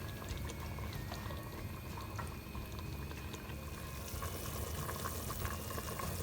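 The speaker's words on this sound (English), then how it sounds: "And to this we're going to add" Water pours steadily into a soup pot holding vegetable broth, a soft continuous splashing and gurgling heard up close and fairly quiet.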